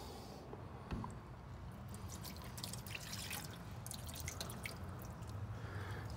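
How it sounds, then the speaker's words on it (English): Water trickles and drips out of the cowl panel drain of a 1965 Mustang Fastback, a soft continuous splashing wash with scattered drips, fairly quiet and steady throughout with no talk. "you can see the water is draining properly"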